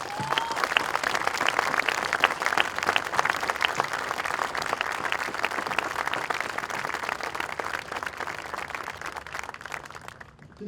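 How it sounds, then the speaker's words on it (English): Sustained applause from a large crowd at a military regiment's change of command ceremony, dense and steady, fading out at the very end. "giving this colonel, the 65th colonel of the regiment, a round of applause"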